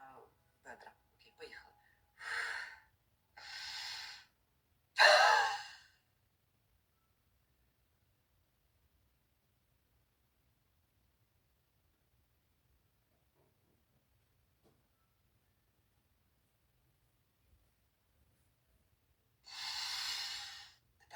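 A person performing a rib breathing exercise, with several audible inhales and exhales in a quiet room, close and soft, followed by a long silence and one more deep breath near the end.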